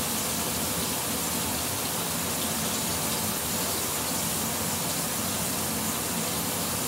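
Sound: venison cubes searing in oil in a pan

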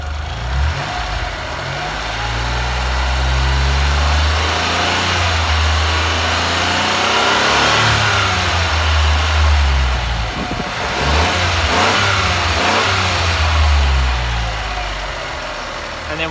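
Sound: car engine idling and revving, running on vapour

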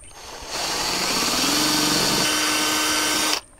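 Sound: power drill drilling holes through solar mount

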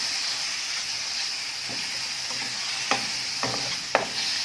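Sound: pork stir-frying with red curry paste and kaffir lime leaves

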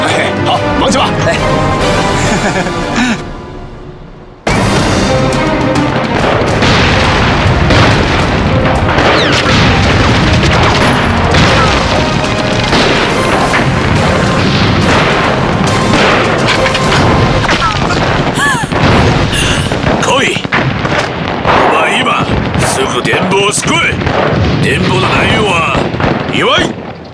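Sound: heavy artillery shelling in a war film

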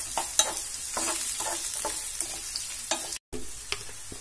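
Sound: chopped onion sautéing in pan for okra masala

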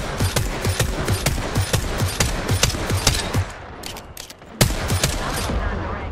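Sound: gunfire in the video game Apex Legends

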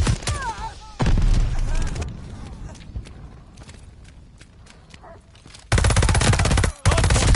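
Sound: gunfire in video game Call of Duty Vanguard

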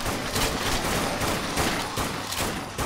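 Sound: gunfire in the video game Dead Nation

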